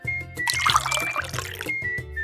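Water pours into a bowl of sauce mixture with fish, chili and oyster sauces, a short close splashing trickle that swells and then tapers off.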